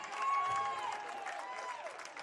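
A high school football crowd at Carroll High School applauds and cheers after a touchdown, a broad, moderately distant wash of clapping and crowd noise, with faint whistle-like tones drifting through.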